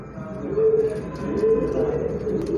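Domestic pigeons of the Rampuri and Ferozpuri breeds coo in a steady, close run of soft, throaty calls, with no talking.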